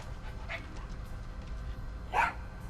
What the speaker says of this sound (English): did you bring a dog in here?